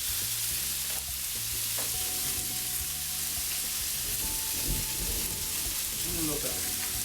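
Salmon fillets sear on an oiled griddle turned up to full heat, giving a continuous close crackling sizzle with small pops, steady throughout.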